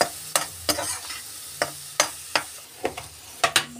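Peas seasoned with amchur and black pepper powder being stirred in a pan at home, a dozen sharp spoon scrapes and clinks in an irregular rhythm over a faint sizzle, close and clear with no talk.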